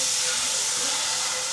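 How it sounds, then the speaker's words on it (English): Steady broadband hiss of steam rising from a pot of boiling water on a home stove, loud and continuous with no talking. "So much steam coming out of them. It's finally boiling."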